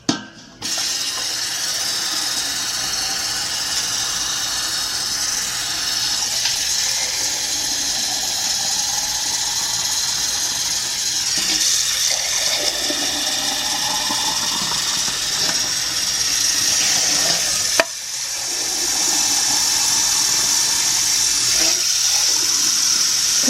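A kitchen tap runs cold water into a pan holding empty glass jars for dandelion jelly, a loud, steady gushing stream that shifts in tone as the pan fills.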